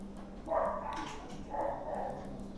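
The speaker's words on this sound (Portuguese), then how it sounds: "Alguma cachorrinha na porta" A small dog barks at a door indoors, two moderately loud bursts of barking about a second apart over a low steady hum.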